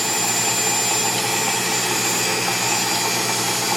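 Steady, loud CNC drilling noise from a Tormach PCNC mill, with a constant high-pitched whine and broadband roar, continuous throughout with no pauses or talk.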